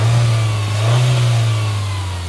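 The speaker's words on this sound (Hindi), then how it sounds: "थोड़ा रेव करो, रेव करो।" A close-miked Mahindra XUV 7XO SUV engine revs up, its deep roar swelling briefly before settling back to a steady throaty rumble.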